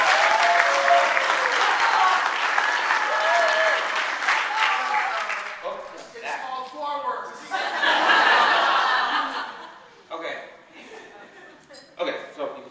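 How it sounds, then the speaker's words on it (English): A room full of people gives a loud, sustained round of applause that gradually thins out, with chuckles and scattered voices rising as the clapping fades toward the end. "can we give one more round of applause for the good work everyone's doing here?"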